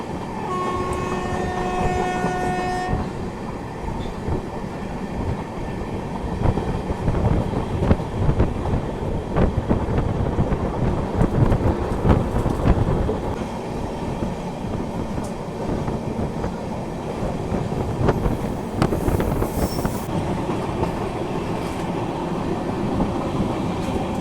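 The Hadapsar (Pune)–Rewa Superfast Express rolls steadily through Madhya Pradesh farmland, a continuous rumble and rattle of carriages over the rails, with a brief horn-like tone at the start and no voices.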